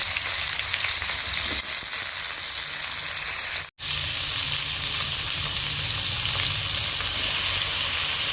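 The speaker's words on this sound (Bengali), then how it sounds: "বেল পেপার আর ক্যাপসিকামগুলোকে ভেজে নেব।" Bell peppers and capsicum fry in oil left from frying paneer, a steady bright sizzle with faint stirring that cuts out briefly before resuming, no voices over it.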